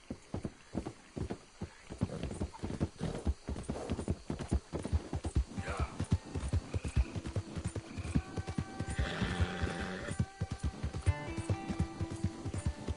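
Hooves clip-clop in a steady, close rhythm as a horse travels in Red Dead Redemption, with a few neighs and snorts rising partway through over faint background ambience.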